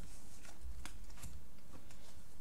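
Yu-Gi-Oh Blackwing trading cards gathered up by hand, a brief run of close, soft flicks and shuffling card slides with no talking.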